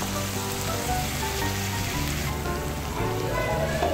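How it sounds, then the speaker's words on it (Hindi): Garlic and ginger paste sizzles and crackles steadily in a hot pan for a chicken tikka macaroni dish, a close, continuous frying hiss under faint background music. "लहसुन हमारा भुन चुका है हल्का सा"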